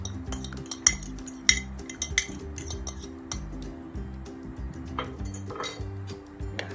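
Beef ribs with caldereta mix powder dissolved in water are stirred in a pot, a spoon clinking and scraping against the metal in an uneven rhythm, close and clear over a low background hum.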